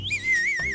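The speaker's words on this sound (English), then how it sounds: "Use your whistles." A whistle blown during a lively game show round, one short wavering, warbling toot lasting under a second, close and fairly loud.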